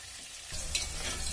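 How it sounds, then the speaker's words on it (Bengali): Potatoes hit hot oil left over from frying rohu fish for a curry with cauliflower, setting off a sudden loud sizzle halfway through after a quiet start, with stirring noises over the steady frying hiss. "এবারে ওই মাছ ভাজা তেলের মধ্যেই আলুগুলোকে ভেজে নিচ্ছি।"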